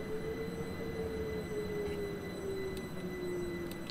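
A train pulls away in the Train Simulator 2015 game, a steady rolling rumble with a sustained whine that slowly drops in pitch as it moves off.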